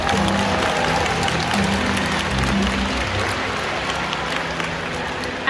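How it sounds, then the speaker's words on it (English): A large audience claps loudly and continuously, a dense, sustained wave of applause that holds steady throughout. "Give yourselves a big round of applause."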